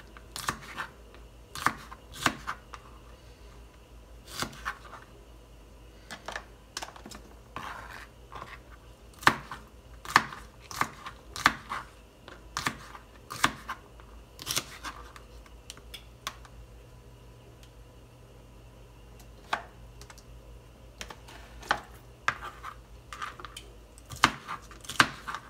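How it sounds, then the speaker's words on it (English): A knife chopping washed asparagus on a cutting board: scattered sharp taps, sometimes in quick runs and sometimes spaced apart, fairly close and clear over a quiet room. "so I'm gonna go ahead and chop my asparagus"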